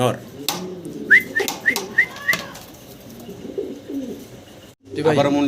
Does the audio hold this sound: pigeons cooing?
yes